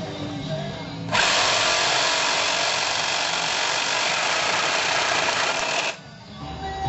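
Power tool cutting and drilling metal for a hot rod shifter box, a loud steady broadband whine of about five seconds that starts and stops abruptly over quieter background noise.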